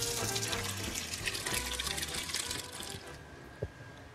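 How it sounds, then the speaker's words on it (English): Water runs steadily from a tap into a pot for a seafood stock in a kitchen, a continuous splashing rush that fades slightly near the end. "I'm just going to put a bit of water into the pot."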